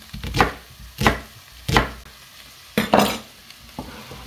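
A knife slices leeks into rounds on a cutting board, several distinct chops at an irregular slow pace, each a short crisp thud, with quiet gaps between and no talking.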